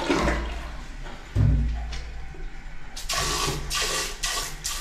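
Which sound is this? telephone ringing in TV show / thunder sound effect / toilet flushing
toilet flushing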